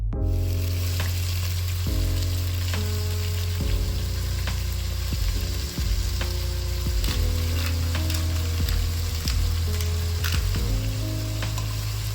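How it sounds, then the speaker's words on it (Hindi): Chicken pieces frying in white oil, a loud, dense, continuous sizzle close up with occasional stirring knocks and a low background hum, no voices. "तो व्हाइट ऑयल में चिकन पीसेस को हल्के से फ्राई कर लेना है।"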